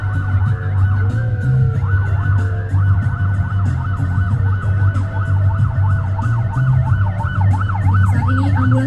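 Loud ambulance siren cycling steadily in a wailing up-and-down sweep during a workplace safety emergency drill, heard close with a low engine rumble underneath.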